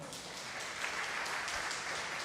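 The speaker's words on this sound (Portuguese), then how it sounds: "Pode dar um aplauso ao Senhor Jesus?" A church congregation applauds during an evening sermon, a steady, distant wash of clapping that sounds faint and continuous throughout.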